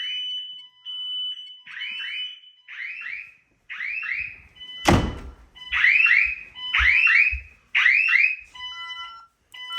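SimpliSafe Gen 3 smoke detector sounding its alarm indoors: loud repeated shrill chirping beeps in triplet bursts, with a sharp thud or blow of air in the middle before the beeping resumes.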